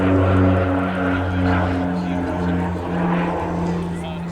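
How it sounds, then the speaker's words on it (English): North American Rockwell OV-10 Bronco with two 700 shaft horsepower Garrett turboprops climbing at an air festival, a steady loud propeller drone with strong low harmonic tones, a voice talking over it. "The aircraft was actually considered to be slightly underpowered with two 700 shaft horsepower Garrett turboprops"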